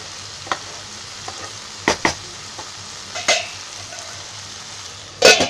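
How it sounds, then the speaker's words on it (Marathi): Oysters (kalwa) frying Konkani style in a pan, with a steady sizzle under sharp metallic scrapes and clinks of stirring and a lid clattering, close up. "आपली मस्त आता कालवा फ्राय होणार आहे रेडी"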